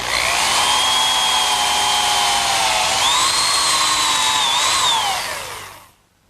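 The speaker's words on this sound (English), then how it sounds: "I'll drill some holes to secure the joint with some dowel pins" Power drill boring dowel-pin holes into wood for a harvest table joint, one long steady whine whose pitch shifts as the bit works through, loud and close, then winding down to a stop.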